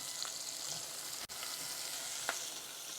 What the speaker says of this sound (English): sauteing like this, we're going to bring out the flavour